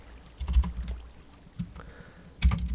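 Someone types on a computer keyboard in short bursts of key clicks with pauses between them. The keys are close and fairly quiet.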